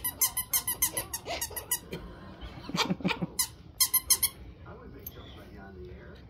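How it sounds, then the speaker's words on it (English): A squeaky teddy bear toy is squeezed over and over in quick bursts of sharp, close squeaks, pausing and resuming, with voices talking nearby in a home with puppies. "Nobody likes a teddy bear unless they squeak it."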